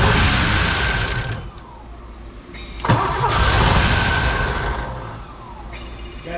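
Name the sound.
old Porsche engine cranking over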